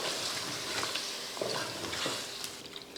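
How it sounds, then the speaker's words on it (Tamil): Small chicken pieces with salt sauté in an aluminium biryani pot, a steady close sizzle broken by scraping, stirring strokes of a ladle, with no voices. "கறி வதங்கிறதுக்கு உப்பு எல்லாம் சேர்த்து நல்லா வதக்கி விடுவோம்"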